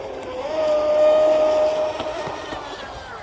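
Deltaforce 35 RC boat running out on the water, its small motor giving a steady high whine that swells louder around the midpoint as it passes close, then eases off slightly.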